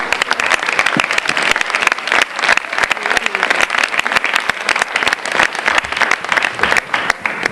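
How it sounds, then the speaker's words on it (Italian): An audience applauds at a talk with actor Leo Gullotta, a dense, loud, continuous wash of many hands clapping that holds steady throughout without a break. "L'applauso io lo rivolgo così come lo avete fatto"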